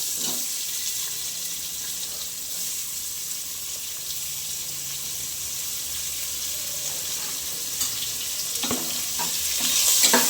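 Chopped onions and green chillies sautéing in a pan for green gram gravy give a continuous hissing sizzle, close and fairly loud, that swells near the end with a few stirring scrapes, and no talking.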